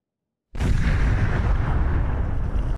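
A detonation destroys PKK explosives in Van: after half a second of silence a loud, deep blast erupts and roars on as a sustained rumbling boom for about two seconds before cutting off.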